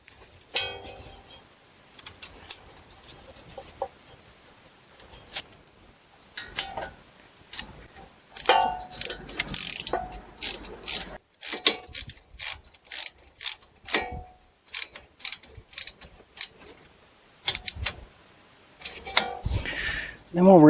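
A ratchet gently tightening the wheel speed sensor bolt on a Buick Lacrosse, a run of quick close clicks and mechanical ticks in irregular bursts, fairly quiet, with a few faint background noises between strokes.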